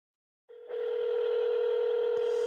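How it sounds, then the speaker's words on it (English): A telephone line rings with no answer, giving a single steady electronic tone that holds clear and unbroken for about two seconds after a short silence. "Yeah, it just rings."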